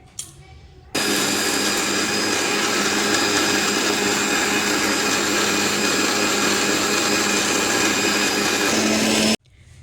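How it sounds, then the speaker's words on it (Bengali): An electric mixer grinder blending coriander leaves and green and red chillies into chutney, starting abruptly and running as a loud, steady whirring drone for about eight seconds before cutting off. "এই দেখো ধনে পাতা বাটবো।"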